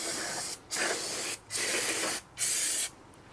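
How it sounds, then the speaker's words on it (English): Brake cleaner sprays onto a two-stroke engine part in three long, loud hissing bursts separated by short pauses, close up with no talk. "Give it a nice brake clean hose down."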